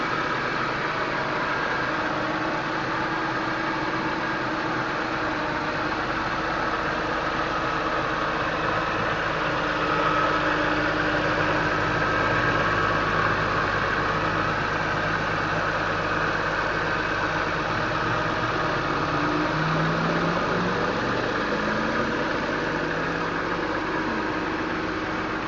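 A 2001 BMW M3 with over 200,000 km idles steadily after a cold start, a continuous even engine hum with a faint rough vibration, close and alone with no talking.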